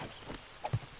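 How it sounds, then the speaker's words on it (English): Rain falls in 7 Days to Die as a steady, soft patter and hiss, with a couple of brief, louder droplet-like taps near the end. "I'm freezing now because it's raining"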